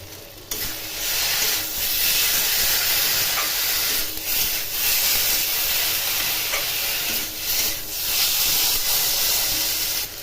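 Rinse water from a dal bowl hits a hot pan during cooking of a dal pakora curry, giving a continuous loud hiss and sizzle with bursts of steam and occasional stirring scrapes.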